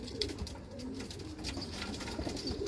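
Soft, low cooing from a young blue bar pigeon in a loft repeats steadily over a busy background murmur of other birds, close by and fairly quiet.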